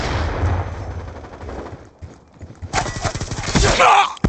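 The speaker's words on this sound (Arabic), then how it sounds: "رصاص." Rapid bursts of automatic gunfire in the video game Black Ops II crackle in quick succession, loud and close, with a brief lull before another intense volley.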